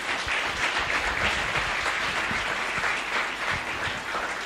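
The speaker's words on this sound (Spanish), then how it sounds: "Démosle un fuerte aplauso al Señor." A church congregation applauds during a Spanish-language sermon, with dense, sustained clapping from many people at full volume throughout and no speech over it.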